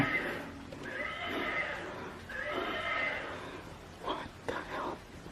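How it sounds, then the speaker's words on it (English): A child's rocking horse toy makes repeated electronic neighing whinnies, several drawn-out calls in a row followed by short clip-clop bursts at the end, fairly close and moderately loud. "a child's horse toy is seen rocking back and forth on its own and making noises"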